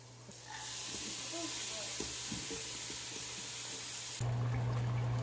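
Water poured into a pan of frying spice paste with turmeric meets the hot oil and erupts into a loud, broad hiss that holds steady for several seconds, with brief faint voices and clinks underneath.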